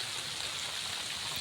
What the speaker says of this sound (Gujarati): વરસાદ રહેતો નથી